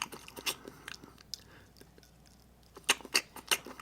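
Shrimp is chewed up close in a Truth or Chew game, wet crunchy bites and smacking in bursts with a quiet pause between them.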